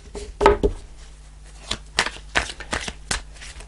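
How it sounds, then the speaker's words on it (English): A deck of tarot cards being shuffled, with a sharp riffle near the start and then several crisp bursts of cards slapping and sliding together, close and clear without any voices. "give it a good shuffle"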